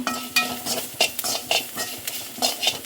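Quick repeated scraping and stirring in a pan with light sizzling underneath, a rhythmic series of close strokes, as a tempering with curry leaves fries in oil for rasam.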